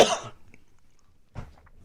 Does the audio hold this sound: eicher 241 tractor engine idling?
no